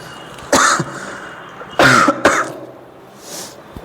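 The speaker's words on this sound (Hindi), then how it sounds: "आज खांसी आ रही है" A person coughs loudly nearby, three harsh coughs with short pauses between, followed by a softer throat-clearing sound.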